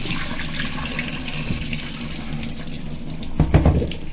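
Raw chicken pieces are washed under a running kitchen tap, with water pouring steadily into the sink and some heavier splashing near the end.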